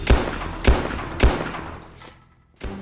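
Gunfire in the video game Soviet Soldier: three loud, evenly spaced heavy shots, each trailing off into a long echo, then a quieter stretch before a fourth shot starts at the end.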